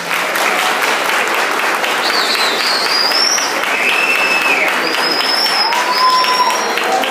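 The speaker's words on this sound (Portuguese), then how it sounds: "uma salva de palmas que dura mais ou menos 3," Audience applause for Professor Santarém at an opening lecture of a 2013 Physical Education week at UNIABC: dense, sustained clapping from a crowd, steady and loud for the whole stretch.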